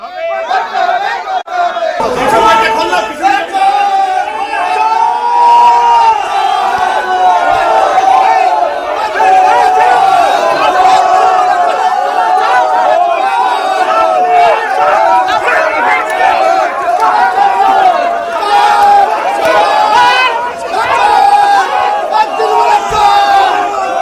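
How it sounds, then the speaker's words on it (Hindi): A large angry crowd in West Bengal chants and shouts slogans accusing a TMC leader of being a thief, a loud, dense mass of overlapping voices that holds for the whole stretch after a brief quieter opening. "सुकुमार दत्ता के खिलाफ नारे लगाए, चोर चोर के नारे लगाए"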